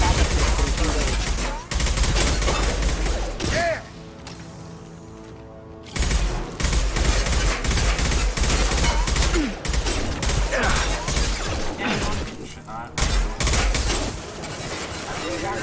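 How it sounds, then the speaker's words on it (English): Sustained automatic gunfire rattles through a Mass Effect 2 battle in dense, loud fusillades, with brief lulls and scattered impacts, and game voices speak over the shooting. "Taking fire."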